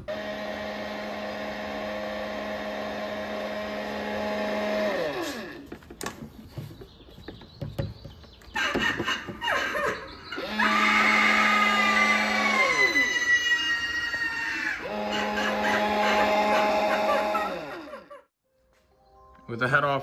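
A 2023 Spirit Halloween Eternal Rest animatronic with a fault runs with a steady mechanical hum and motor whine, broken by clattering and squeaky bursts, then cuts off near the end.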